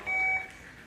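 A buzzer held down during a test run gives one steady electronic tone of about a third of a second, with a faint quieter tone under it. It fades into low room noise with no talk.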